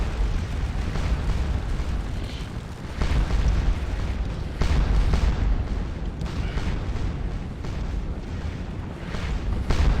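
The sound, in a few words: cannon artillery fire in Scourge of War Waterloo video game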